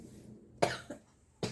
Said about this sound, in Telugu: అసలు దగ్గు వచ్చేస్తుంది